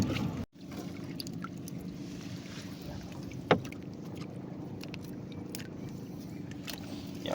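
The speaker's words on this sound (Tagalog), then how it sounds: "Daming bangka nagadaan-daan dito mga ka-sisters." Small boats pass along a waterway, their steady motor drone and water wash running constantly beneath light wind. One brief knock sounds near the middle.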